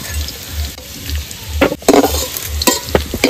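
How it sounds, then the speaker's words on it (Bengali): Potatoes frying in hot oil for a vegetable biryani, a loud close sizzle with occasional stirring scrapes and clatter. "তো আলুগুলো ভালো করে ভেজে নিয়েছি, তুলে নেব।"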